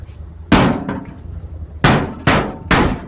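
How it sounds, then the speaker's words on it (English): Four loud metallic hammer strikes on a car fender, irregularly spaced, each ringing briefly with a sharp clang, close up. "smack with a hammer"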